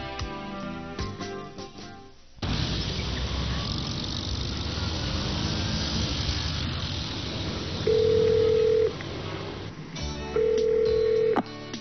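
A telephone line during a call from Japan, with a few short beeps and a tone early on, then a long stretch of steady line hiss, and two loud sustained tones near the end.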